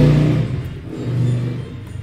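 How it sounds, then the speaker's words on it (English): A motorbike engine hums past outside, a low droning rumble that swells and fades over a couple of seconds. "Excuse that motorbike that you probably just heard on the microphone there."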